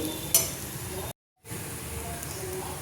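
Vermicelli with milk and powdered sugar being stirred in a hot pan, a close, continuous soft sizzle with stirring scrapes, briefly cut to silence midway before resuming.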